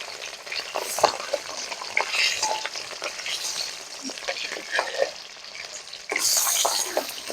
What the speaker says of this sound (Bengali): এবার আমি মাছগুলো ভেজে নেব এক এক করে